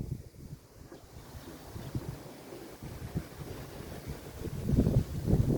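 Gusty wind buffets the microphone in low rumbling bursts, growing stronger and rougher toward the end, with no voices.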